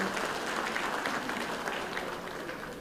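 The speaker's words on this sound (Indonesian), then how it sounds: "Tepuk tangan untuk Mas Anin." A crowded hall at a formal government gathering breaks into steady, moderately distant applause that holds evenly for a few seconds.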